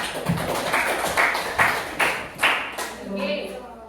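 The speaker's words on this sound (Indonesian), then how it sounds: "give applause to group 4" A classroom of students claps for a group after its presentation, sharp hand claps landing in a quick, fairly even rhythm of about eight beats, loud and close.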